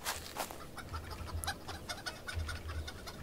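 Hens clucking near a coop in the farming video game Farmer's Life, a run of short, close clucks and calls repeating irregularly with no talk over them.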